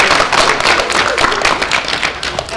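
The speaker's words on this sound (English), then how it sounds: "Please give our band members a round of applause." Steady applause from a crowd of attendees at a school district board meeting, honoring student band members, dense overlapping claps throughout with no voices over it.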